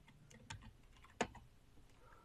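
Someone types a Linux command on a computer keyboard: a few quiet, sparse keystroke clicks, one sharper tap near the middle, close by and otherwise near silent.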